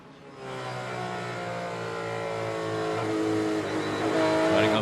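A race car accelerates hard around the Lime Rock circuit, its engine rising in pitch and growing louder as it nears, with more cars joining toward the end.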